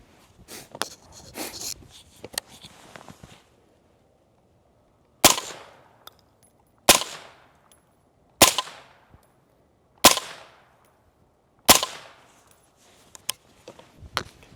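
Suppressed 5.56 rifle shots through an AAC suppressor ring out as six sharp, loud cracks spaced about a second and a half apart, preceded by quieter handling clatter.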